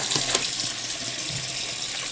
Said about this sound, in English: now we're going to rinse this out in cold water